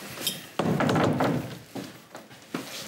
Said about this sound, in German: Tür bitte zu.